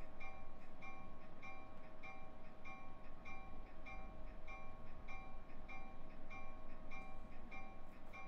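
A diesel train's horn in a train simulator game sounds as a sustained, steady multi-note blare over a low rumbling engine, with a faint rhythmic pulsing running under it for the whole stretch.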